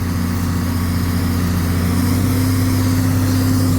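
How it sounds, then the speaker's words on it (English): A tractor pulling a hay rake drones steadily from inside the cab, a loud, even low engine hum with a constant mechanical whine and no talking. "what it looks like running the rake from inside the cab of the tractor"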